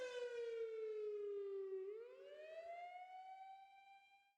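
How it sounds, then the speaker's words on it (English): A wailing siren sounds from a tree line, a steady loud tone that dips and then rises again before cutting off abruptly. "the siren, which was getting louder at this point, had abruptly stopped."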